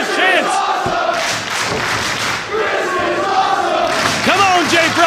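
Dense roaring of a wrestling crowd fills the space continuously, loud and close, with individual shouts and whoops poking through and a thud early on.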